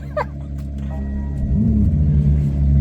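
A car engine idles with a low, steady rumble close by, while a voice briefly speaks over it and a pitch sweep rises and falls as the engine note shifts.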